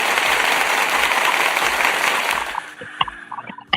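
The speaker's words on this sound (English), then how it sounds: "I hear the claps" Loud, dense applause from a crowd of clappers, steady at first and then thinning into a few scattered individual claps as it dies away.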